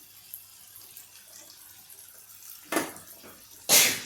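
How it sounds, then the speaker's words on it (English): Water is poured into a pan of partly cooked vegetables for cheese balls, two short splashing bursts over a quiet background, the second louder than the first. "I add little bit water"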